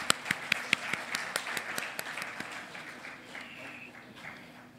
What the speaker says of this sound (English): May I request the audience to give a thunder of applause.